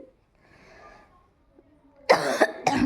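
A few sharp coughs close by, coming in two quick bursts after a quiet moment with faint background hum.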